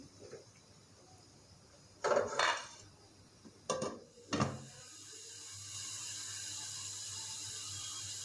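A pot of orange squash simmering on the stove is covered with a lid, giving a few short metallic clanks and scrapes in two brief clusters, followed by a steady low hiss of the cooking pot.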